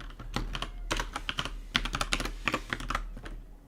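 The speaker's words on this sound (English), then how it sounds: "I'm typing so slow today." Fingers type on a computer keyboard while coding, uneven clusters of quick close key clicks with short pauses between bursts and a low steady hum underneath, no speech.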